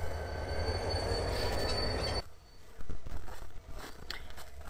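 A long train in the Train Simulator 2014 game rolls with steady loud rumble and wheel squeal, then shifts at mid-clip to quieter clanking and rattling of rail cars.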